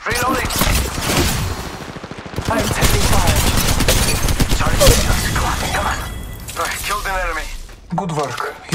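Rapid automatic gunfire rattles loudly and almost without a break in the mobile shooter Apex Legends Mobile, while in-game voice lines talk over the shooting.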